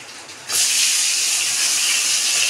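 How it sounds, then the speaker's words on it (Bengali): Pointed gourd hits hot oil in a pan, a quiet lead-in giving way at once to a loud, sustained sizzling hiss that holds steady, close up and alone. "এই তেলে এবার আমি পটলটা ভেজে নেব।"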